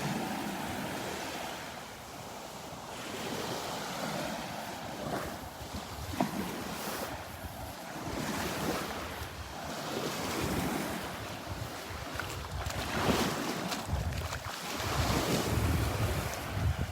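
Surf washes continuously onto Delnor-Wiggins beach under gusting wind buffeting the microphone, a broad, rushing roar of breaking waves with no voices.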